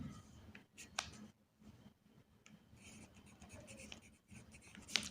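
Pen scratching across paper during a maths lesson, faint and close, in short strokes with brief pauses between them.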